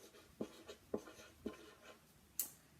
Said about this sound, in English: I'm going to write the 3 houses.